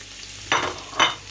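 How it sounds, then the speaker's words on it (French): Two short bursts of sizzling from onion hitting hot palm oil in a pan, each flaring up then fading, close by with no talking. "je fris l'oignon un peu"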